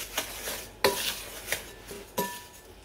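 A spoon stirs shredded coconut into a chocolate rum ball mixture in a bowl, giving soft scraping strokes and a few sharper clinks against the bowl, fairly quiet, with no talking.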